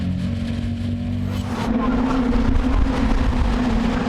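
Caterham race cars at Brands Hatch, running nose to tail into Paddock bend, with a steady loud engine roar that swells slightly midway, racing commentary over the top.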